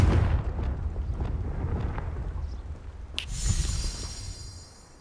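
A Confringo fire-blast spell in Hogwarts Legacy erupts as a deep, rumbling boom with a sharp crack partway through, then a lingering low roar that slowly fades, with no voices over it.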